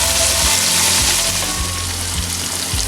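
Turmeric and salt fry in a pot for beef yakhni pulao, producing a loud, close, hissing sizzle broken by several low, dull thumps as the mixture is stirred.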